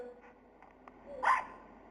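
A short electronic dog bark from Nintendogs rings out once, mid-level and slightly echoey, after a few faint soft blips.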